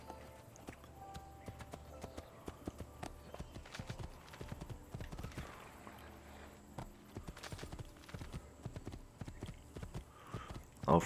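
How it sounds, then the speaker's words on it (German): Horse hooves in the Assassin's Creed 2 video game beat out a steady, quick clip-clop rhythm that runs throughout, close and moderately loud, with no talking over it. "Steigen wir mal auf ein Pferd auf."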